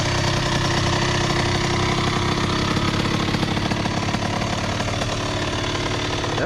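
A 2001 Honda CR80 two-stroke dirt bike idles close by, a steady rapid thumping putter that holds even and loud for the whole stretch with no one speaking.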